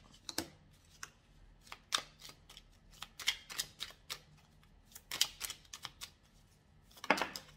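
Playing cards being dealt snap and slap down one after another in an irregular series of sharp, close clicks and flicks, some cards skipping as they land.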